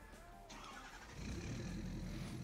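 A 6.7 diesel engine in Farming Simulator 22 rumbles at idle, then swells into a heavier, louder roar partway through, a short continuous game engine sound with no talking.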